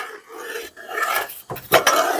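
Payasam made with bamboo rice is stirred in a cooking pot, giving close scraping and rasping strokes with a few sharper clinks of the spoon against the metal pot over the last second.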